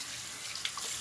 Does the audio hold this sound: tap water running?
yes